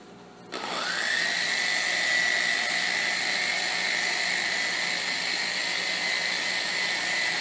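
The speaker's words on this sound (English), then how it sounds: "When you're doing this with a random orbit machine like this, you got to go pretty slow." A random orbit sander spins up and then runs steadily with a high whine while sanding a painted motorcycle gas tank during finishing work, close by with no talking.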